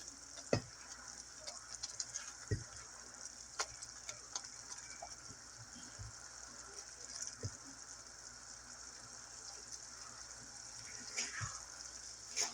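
Pecan caramel mixture cooking in a pan under constant stirring, a faint steady sizzle broken by light scrapes and taps of the spoon.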